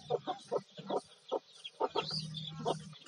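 Chickens cluck repeatedly in short bursts against a low, steady farmyard background.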